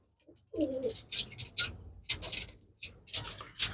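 Domestic pigeons kept and sold by a pigeon fancier give a short burst of soft cooing, followed by scattered clicks, flutters and faint murmuring voices in close, quiet surroundings.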